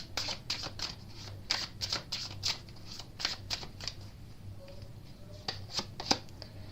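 Oracle cards are shuffled in quick, crisp riffling bursts, close and clear, with short pauses between flurries of flicking card edges and no talking.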